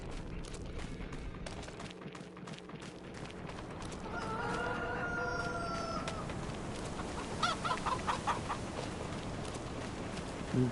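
Chickens in Farming Simulator 25 cluck softly in the background, with a clearer run of clucks and a crowing rooster call standing out over a steady ambient hum.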